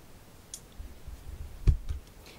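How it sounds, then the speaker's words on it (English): Small thread snips cutting sewing threads during fashion sewing, a few crisp close clicks, one sharper snip standing out in a quiet room. "you just snip your threads as you go"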